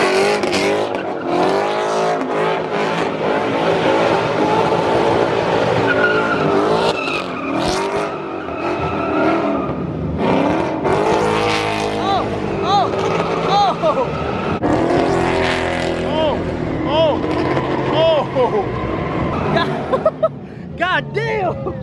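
Ford Mustang at a car meet accelerating hard and losing grip, with loud revving and tire squeal under crowd noise and people talking and shouting.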